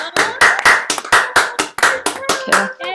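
Applause over a Zoom call during an online Saturday night show: a single close, loud run of about a dozen sharp hand claps at a quick, slightly uneven pace.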